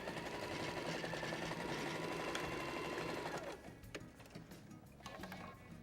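A sewing machine stitching fabric for a watermelon pencil case runs in a fast steady whir for about three and a half seconds, then stops, leaving a few light handling knocks.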